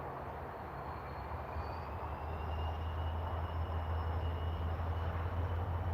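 A double-headed freight train hauling flatbed wagons at Basford Hall Sidings, Crewe, rumbles past as a continuous low drone with a faint whine above it, heard from trackside and growing slightly louder.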